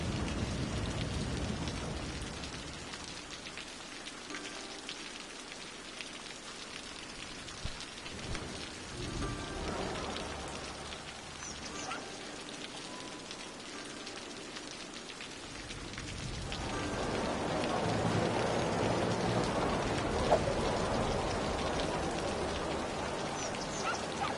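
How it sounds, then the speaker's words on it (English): A Cities: Skylines thunderstorm brings a steady hiss of rain on surfaces with low rumbles of thunder. The rain swells louder and brighter toward the end, heard alone at a moderate level. "thunderstorm in the city."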